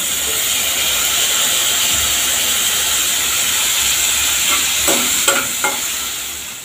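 Tomatoes added to a pan of fried ginger-garlic paste crackle in a loud, continuous hiss of frying, with a few spatula scrapes near the end as the sizzle eases slightly.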